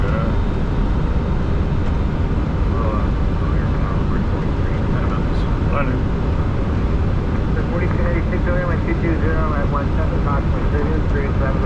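Boeing 747 landing on runway 22 left at Chicago O'Hare, with a steady loud broadband roar of engines and airflow filling the whole stretch, voices talking over it in the cockpit.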